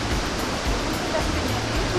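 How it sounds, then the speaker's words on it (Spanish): Steady, loud broadband roar of the Huepil waterfall in Chile's lake district, rushing water cascading over rocks and moss, continuous with no pauses and no talk over it. "Aquí venimos mirando el salto, vean qué bonito, las rocas"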